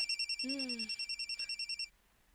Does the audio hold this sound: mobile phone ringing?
yes